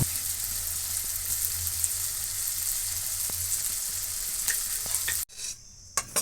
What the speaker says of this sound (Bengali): মশলাটা ভেজে নেওয়া হয়ে গেছে